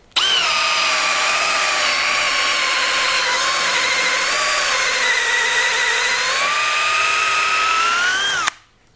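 A Milwaukee M12 FUEL cordless drill-driver whines steadily in first gear for about eight seconds, loud and close, then stops abruptly.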